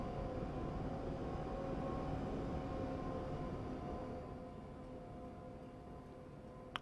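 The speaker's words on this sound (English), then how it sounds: "See, that train's making noise." A train in Train Sim Classic on the South London Network rumbles at low speed with a steady engine drone, faint and constant, fading slightly toward the end.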